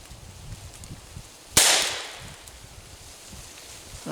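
A single sharp gunshot firing CCI snake shot cracks loudly and close, followed by a short decaying echo against quiet outdoor background.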